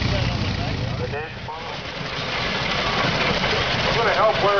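An antique tractor engine runs steadily at a machinery show, a continuous loud rumbling drone with people talking over it throughout.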